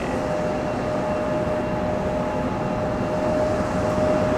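An airliner arriving at Raleigh Durham International Airport makes a steady, loud broadband roar with a thin sustained whine, holding level throughout with no voices.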